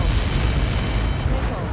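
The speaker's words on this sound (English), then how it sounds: "How many got caught in that explosion?" A huge explosion rumbles in the video game Ace Combat 7 Skies Unknown, a dense, loud, broadband roar that holds for nearly two seconds with no distinct onset, as if heard already underway.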